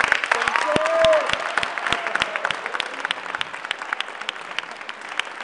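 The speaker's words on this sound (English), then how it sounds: "Could we please have a round of applause for my dean, Sam Strong" Audience applause for a dean being introduced at a stand-up event in Philadelphia, a steady wash of clapping that starts strong and gradually thins out over several seconds.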